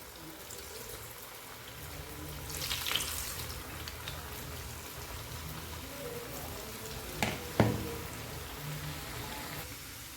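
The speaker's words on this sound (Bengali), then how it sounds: "এখন ভেজে নেবো" Pulli pitha rice cakes fry in oil in a home kitchen, giving a soft, continuous bubbling sizzle with a few sharper clinks and scrapes midway and near the end.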